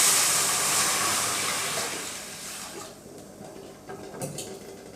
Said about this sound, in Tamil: இப்போ இதில் தண்ணி சேர்த்து வேக வச்சிடலாம்